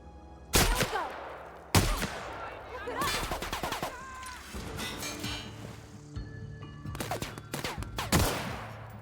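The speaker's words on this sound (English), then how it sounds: "I wonder if I can just blast their head off with a shotgun" Sharp shotgun blasts from The Outer Worlds, several loud booming shots spaced irregularly over the stretch, some clustered, with bursts of background combat noise between them.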